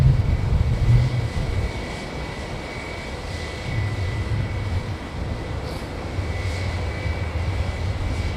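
An Airbus A320 jet roars during its departure down an active runway, a steady loud engine drone with a sustained whine over it, heard without speech.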